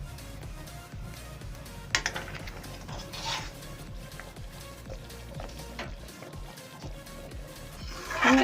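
A spoon scrapes and clinks against a cooking pot as thickened mango kasundi mustard sauce is stirred, a steady faint rhythm of metallic taps and scrapes with no talk.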